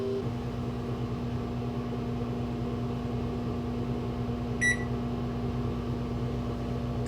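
A microwave oven runs a cook cycle heating oatmeal, a steady mechanical hum and fan drone throughout with a brief single electronic beep near the end as the cycle switches over.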